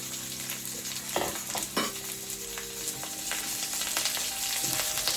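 Shallots and mustard seeds sizzle steadily in hot coconut oil as a tempering for fish curry, with a dense frying hiss throughout and a few sharp pops and stirring scrapes near the start.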